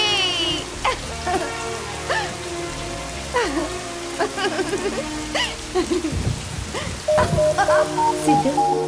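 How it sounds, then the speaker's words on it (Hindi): Steady rain falls throughout a dramatic film scene, with a broad hiss of drops running under swelling music and the occasional louder patter. "it's gonna rain"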